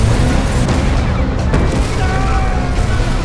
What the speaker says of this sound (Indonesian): bom yang dipasangnya meledak